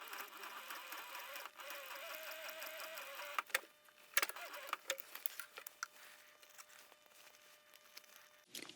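A sewing machine stitches the gusset of a 10-inch round fabric purse, its motor whirring steadily and close for a few seconds before stopping, followed by scattered clicks and light handling taps.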